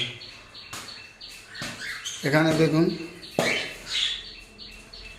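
Pet conure parrots kept in boxes and cages give sharp, close chirps and squawks in scattered bursts. A person speaks briefly between the calls.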